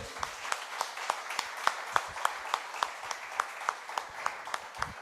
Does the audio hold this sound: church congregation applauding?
yes